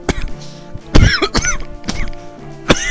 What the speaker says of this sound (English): But that was a horrible cough.